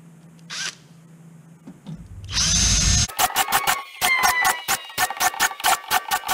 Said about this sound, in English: the plans call for final drilling all the 1/8 holes to number 30. And this is what I'm about to do.